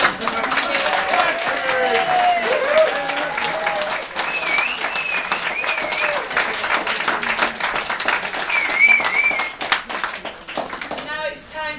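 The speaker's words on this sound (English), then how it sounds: "let's give your groom a huge round of applause" Wedding guests applaud the groom in a sustained round of clapping and cheering that fills the room, with voices and whoops mixed in throughout.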